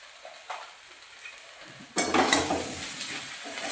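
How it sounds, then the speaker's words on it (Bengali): Vegetables for shukto are stirred and fried in a pan with salt and turmeric. Quiet scraping gives way to a loud, close sizzle with spoon scrapes once the stirring begins, and nobody speaks. "সব কিছু একসাথে ভালো করে নাড়িয়ে নিয়ে নুন হলুদ দিয়ে আমি সব কিছু ভালো করে ভেজে নিয়েছি"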